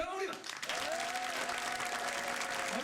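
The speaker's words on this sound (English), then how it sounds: "on va se faire un petit test d'applaudissements pour se réchauffer les mains" A studio audience of a late-night talk show clapping in a warm-up applause test, dense and continuous, with a voice speaking over the clapping.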